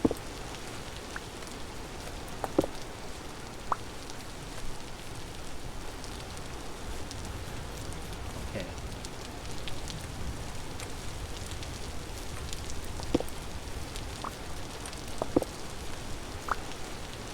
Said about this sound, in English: so gloomy when it rains, man.